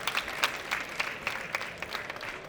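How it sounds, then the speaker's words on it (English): Audience at a business talk on bootstrapping a company gives a short, fairly faint burst of applause, scattered hand claps heard from the crowd. "Please give them a round of applause."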